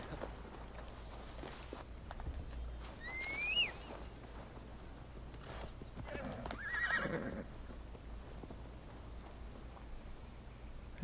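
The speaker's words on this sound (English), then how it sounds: "Should be able to call my horse now" A horse in Assassin's Creed Valhalla whinnies twice, about three seconds apart, amid faint hoofbeats and quiet background ambience.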